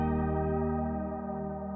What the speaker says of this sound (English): That sound is the sound of chorus.